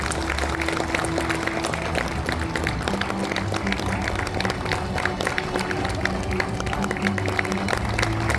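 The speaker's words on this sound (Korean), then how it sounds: "따뜻한 박수 부탁드립니다." A crowd applauds at a county governor's inauguration ceremony in Danyang, South Korea: continuous, dense clapping sustained for several seconds over a busy, echoing hall, with faint tonal sounds running beneath.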